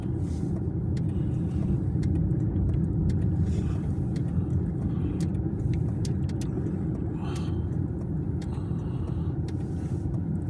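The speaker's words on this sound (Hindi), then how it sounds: "अब वहाँ सामने से गाड़ी आ गई" Oncoming car on a hill road during an evening drive, heard from inside a moving vehicle as a loud, steady low road rumble and engine hum throughout with faint clicks.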